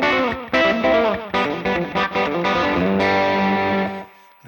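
Electric guitar played with hybrid picking, a fast Ray Charles "What'd I Say" riff in choppy, driving bursts of notes, loud and close, ringing out at the end.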